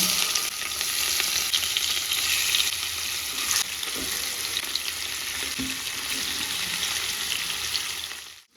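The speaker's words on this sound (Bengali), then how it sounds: "ননস্টিকের কড়াইটা একটা কাকু কাকিমা দিয়েছে তো আজকে পিসি এইটাতে মাছ ভাজছে" Pond fish frying in hot oil in a nonstick pan, giving a steady, loud, dense sizzle throughout with a few brief clatters of a utensil, no talk.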